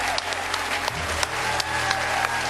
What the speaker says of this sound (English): to rapturous applause.